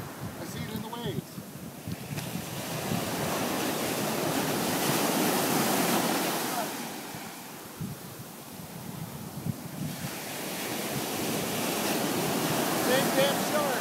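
Ocean waves break and wash on the shore at Seaside, New Jersey, a broad continuous roar swelling and easing in slow surges, with wind buffeting the microphone.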